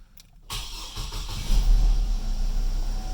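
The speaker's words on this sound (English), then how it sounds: "now we can go ahead and start the car." A Chevy Colorado engine cranks and catches after a moment of quiet, then settles into a steady, loud, close idle.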